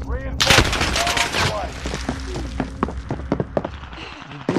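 Bursts of video game gunfire, a dense rapid volley early on followed by scattered single shots and short rattles, loud and close, with players talking over it.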